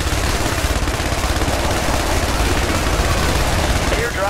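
Dense, continuous automatic gunfire rattles loudly throughout in a war video game, with bursts layered into a steady battle din and no pauses.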